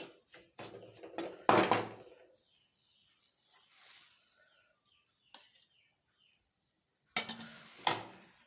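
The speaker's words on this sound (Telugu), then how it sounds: "ఇప్పుడు దీంట్లో గోధుమ పిండి కొంచెం వేయించుకోవాలి" Wheat flour roasting in a pan while being stirred, heard as scattered scraping and clinking strokes with quiet gaps between them, close and moderately loud.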